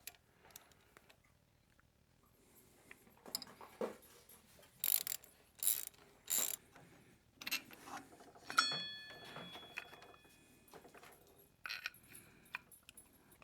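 Ratchet wrench used to remove a motorcycle's front brake caliper during a fork build: several short bursts of rapid clicking near the mic, separated by quieter handling and metallic clinks, with no talking.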